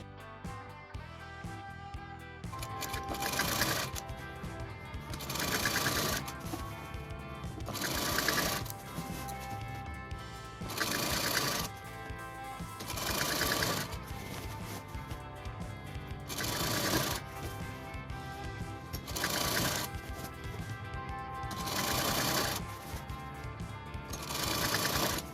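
A sewing machine runs steadily stitching angrakha fabric along a marked line, its whirring rattle rising and falling in repeated bursts with brief pauses between runs.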